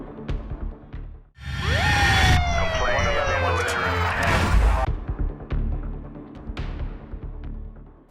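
An ambulance siren wails loudly during a rescue, its rising and falling sweeps lasting several seconds over rumbling traffic and background noise before fading into street sounds.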